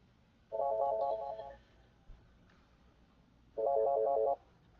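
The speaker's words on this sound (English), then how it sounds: "Or answer the phone." A telephone rings in two separate bursts of trilling tones, loud and close, with quiet gaps between.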